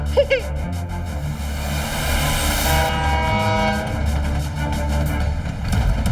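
Cartoon train rolling past a freight car, with a horn-like tonal whistle and a steady rumbling chug that swells in the middle and holds loudly throughout, with no talking.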